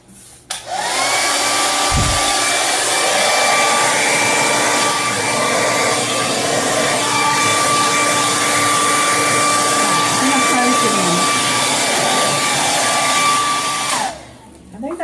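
A hair dryer blows air across a freshly poured epoxy bar countertop, a loud steady whirring roar that runs unbroken for most of the stretch before cutting off near the end.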